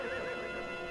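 A horse in the Street Hawk episode "The Arabian" neighs in a brief, loud whinny that fills the short moment alone, with no talk over it.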